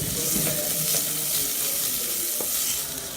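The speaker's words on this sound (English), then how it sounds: "and saute them lightly." Onion, celery, leeks and carrots sauteing in oil in a pan, a steady bright sizzle with faint stirring scrapes, close and continuous with no talking.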